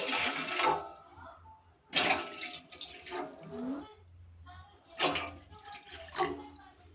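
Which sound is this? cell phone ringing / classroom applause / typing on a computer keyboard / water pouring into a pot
water pouring into a pot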